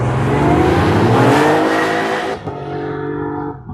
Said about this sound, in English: This car can touch 169 miles an hour all out on the 8-mile sands